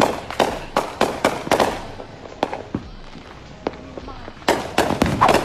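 Fireworks bursting in rapid clusters of sharp, loud cracks and bangs, a quieter stretch of scattered pops in the middle, then another dense volley of explosions.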